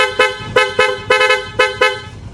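A loud aftermarket horn on a Suzuki Raider FI motorcycle blasts six times in quick succession, short sharp honks in a rapid, slightly uneven rhythm, close and piercing.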